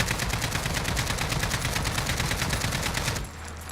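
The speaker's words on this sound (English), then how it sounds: "we're just going to shoot this wall without any recoil control at all" Rapid automatic AK-47 fire in Modern Warfare rattles on at a fast, even rate as the weapon shoots a wall, loud and continuous before stopping suddenly near the end.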